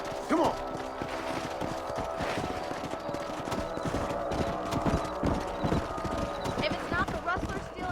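A horse gallops in Red Dead Redemption, its hooves clip-clopping in a rapid, steady rhythm under spoken dialogue, with scattered clanks of gear.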